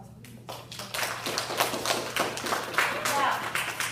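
An audience at a storytelling and poetry summer program claps in loose, uneven bursts of taps and slaps that build up over a few seconds.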